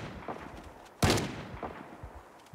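A single loud, sharp gunshot rings out in Project Zomboid, close and sudden, with a short decaying tail over quiet game ambience.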